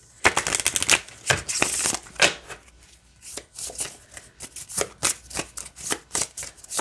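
Thin playing cards being shuffled, with repeated crisp riffling bursts and flicks coming close up, alternating with short pauses.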